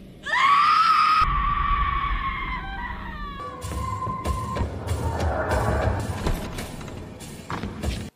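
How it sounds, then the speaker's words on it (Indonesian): A woman in the thriller film The Collector (2009) screams as loud as she can, one long piercing shriek, followed by tense, throbbing thumps and sharp bangs in the film soundtrack. "si tante harus berteriak sekencang mungkin agar si pria bertopeng turun ke"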